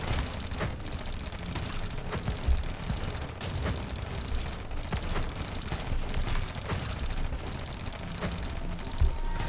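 A minigun turret in Iron Marines fires in a dense, continuous rattle with scattered heavier bursts and thuds over about nine seconds, loud and busy with layered battle noise and no voices.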